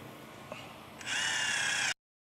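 A cordless power drill driving screws into wood while an old wall is built at a camp in the Atchafalaya basin, one faint click, then a short steady whirring run of under a second that cuts off sharply.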